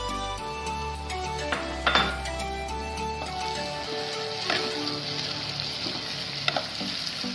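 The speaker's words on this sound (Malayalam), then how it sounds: "തക്കാളി ഉള്ളിയും കൂടെ നല്ലതായിട്ട് നമുക്ക് വഴറ്റിയെടുക്കാം" Chopped tomato and onion sauté in a hot pan for a Kerala-style egg roast, with a steady loud sizzle and occasional scraping stirs and clinks throughout.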